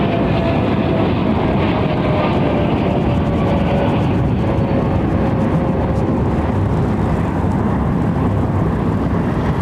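A Kenya Airways heavy airliner at London Heathrow Airport, a loud continuous deep jet roar with a slowly shifting whine held for the whole stretch, heard nearby and alone.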